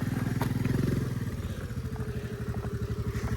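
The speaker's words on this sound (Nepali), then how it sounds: "स्कुटर तान्नै सकेको छैन।" A scooter engine labours up a steep, rough off-road hill climb in Sindhupalchowk, Nepal, giving a close, loud, steady chugging throb with rapid rhythmic pulsing and clattering throughout, no talking.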